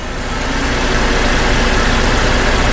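A Cadillac CTS4 engine running in drive at about 1,000 RPM, a loud, close, steady drone with a low rumble and no pauses.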